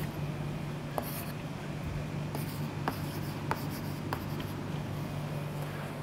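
An equation is handwritten during a quantum mechanics tutorial, producing faint, steady scratching strokes with a few sharper taps scattered through a quiet room, and no speech.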